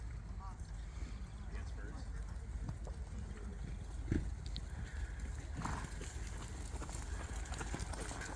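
Horses trotting around an arena at a horse show, with faint, distant hoofbeats under steady broadband background noise and murmuring voices.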